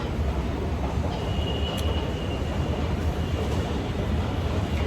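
A metro rail train bound for Agargaon fills the space with a steady, loud rolling rumble, with a faint high whine drifting through it and no speech.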